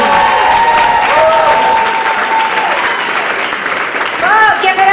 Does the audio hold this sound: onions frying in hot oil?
no